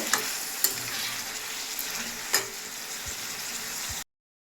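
Spices, cauliflower and potato sizzle steadily in a hot pan, with a few sharp clicks of a utensil stirring, close up and without talking, before cutting off abruptly.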